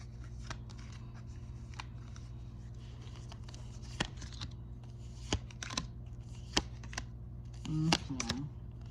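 Tarot cards are shuffled and pulled at close range, giving a steady soft riffling and sliding with scattered sharp flicks and taps, and a short vocal murmur near the end.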